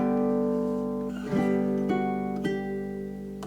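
Baritone ukulele plucking the opening two bars of a Hawaiian waltz, a few soft picked notes and chord strums ringing out cleanly and quietly with no talk.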